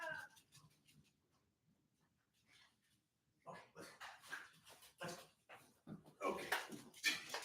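An elderly dog whimpers and snuffles close by in short irregular bursts, quiet at first and then more restless and louder toward the end.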